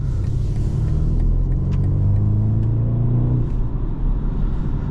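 A 2022 BMW 430i Gran Coupe with its base engine, driving: a steady low engine drone and road rumble heard from inside the cabin, with a gently rising tone as it pulls and faint clicks above.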